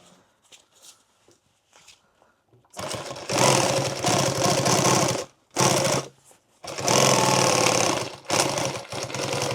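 A sewing machine stitches backwards on a heavy tool bag, loud and close, in three bursts of rapid mechanical chatter preceded by a few faint clicks and handling knocks.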